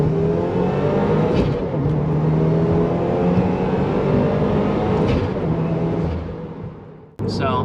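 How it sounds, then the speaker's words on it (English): A flex-fuel tuned Subaru WRX engine revs hard through a second-gear dyno pull, a loud sustained roar climbing steadily for about seven seconds before cutting off abruptly. "I'm going to go ahead and do a second gear pull now,"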